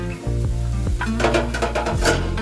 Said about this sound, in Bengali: এবার এটা আমি ভালো করে কষিয়ে নেব।